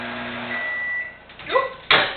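A microwave oven cooking a chocolate mug cake hums steadily for about a second, then falls quiet, followed by a couple of soft clunks and a sharp click near the end, all close by.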